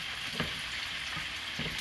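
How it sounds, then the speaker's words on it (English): Fried chicken and quesadillas sizzle steadily in a hot pan, a close, continuous crackling hiss with a few soft knocks of cooking movement and no voices. "Get everybody sizzling and hot."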